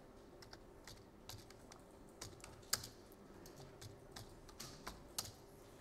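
Keys on a computer keyboard clatter in quick irregular bursts as text is typed in a school computer lab, soft and close with sharper taps standing out now and then against a low room hum.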